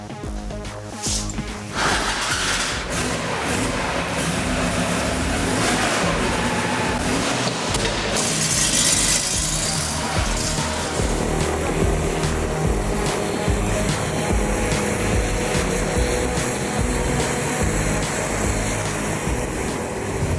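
A loud engine roars continuously throughout, rough and droning with shifting tone, heard close up with no voices.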